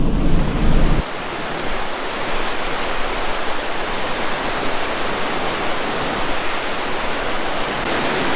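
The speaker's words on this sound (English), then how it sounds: "So this is Thunder Creek Falls, 28 metres high." Thunder Creek Falls, a 28-metre waterfall in New Zealand, roars as a dense, steady rush of falling water, loud and unbroken, with a brief deeper rumble at the very start.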